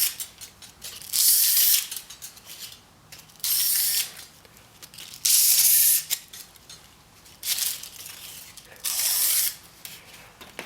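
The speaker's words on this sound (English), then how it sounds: "we'll take sandpaper and we're just going to clean it" Sandpaper rubbed along a stretched, straightened nickel wire in bursts of brisk scraping, each stroke a second or so long with short pauses between, close and loud with no talking.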